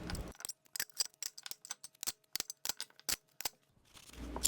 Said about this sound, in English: now it's time to get these zip ties off